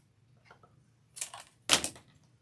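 Two quick, crisp snips of scissors cutting a chunky yarn tail, close and fairly loud, after a few faint soft handling sounds.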